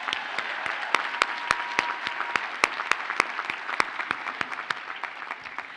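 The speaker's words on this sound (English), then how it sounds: "Give yourselves another round of applause." Graduates at a law school commencement ceremony applaud steadily, a dense wash of clapping with sharp individual claps standing out, fairly distant in a large hall.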